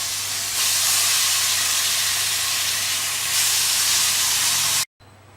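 Chicken dropped into a hot pan gives a loud, steady hiss of sizzling that swells twice, then cuts off abruptly near the end.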